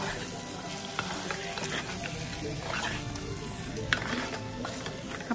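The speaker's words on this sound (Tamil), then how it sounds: "ஒரு 2 நிமிஷம் நல்லா இலக்கிட்டே இருக்கலாம்" Chicken frying in spicy masala for a dry roast, stirred continuously in the pan: loud steady sizzle with scraping, clinking utensil strokes and a few sharper knocks against the pan.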